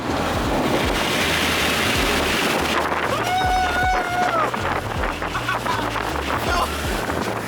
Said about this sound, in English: you guys want to see how windy it is?